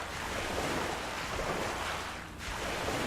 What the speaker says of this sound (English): Wow, that water sound effect is not enjoyable.